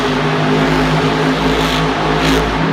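A monster truck's engine roars steadily as it spins a donut at a Monster Jam stadium show in Miami, a loud, continuous drone with slight surges and no voices.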